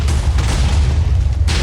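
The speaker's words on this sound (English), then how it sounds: "it's the explosion sound that's the loudest" A deep, heavy boom from an explosion at a Wither spawner in Minecraft, loud and close, followed by a low rumble and a second burst near the end.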